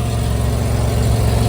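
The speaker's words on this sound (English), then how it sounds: "there's a bad exhaust leak underneath there" A 2000 Chevy Camaro idles with a bad exhaust leak underneath, giving a loud, steady, low rumbling drone with a fast pulsing throb running through it, close by and with no talking.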